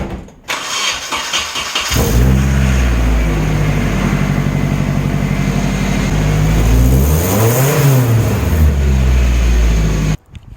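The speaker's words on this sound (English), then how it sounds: "Now the only thing left to do is to fire this thing up and see if it's making" A turbocharged Nissan 240SX cranks over briefly, then catches and fires into a loud, close idle, revving up once with a rising and falling engine sweep before settling back and cutting off.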